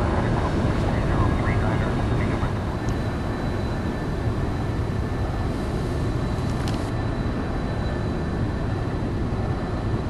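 A B-1 bomber's engines in the X-Plane 9 flight simulator give a steady, broad, low roar that holds at a constant level throughout, with a faint high whine on top and a few faint clicks.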